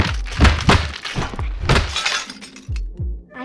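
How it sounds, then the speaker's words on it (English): Screens smashed in the video game Mad Scientist: a rapid series of loud breaking, shattering crashes with glassy debris and low thunks, several impacts in quick succession. "Let's destroy these screens."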